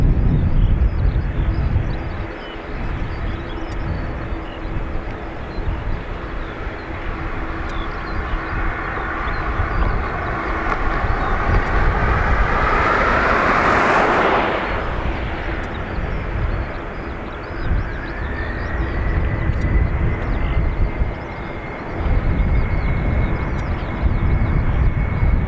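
An airliner on its takeoff roll from runway 28 right at Dublin Airport gives a long, loud jet roar that swells and peaks midway, then a rising engine whine holds steady as the plane climbs away.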